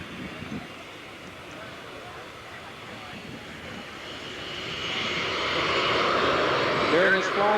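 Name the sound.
QSRA aircraft low-speed flyby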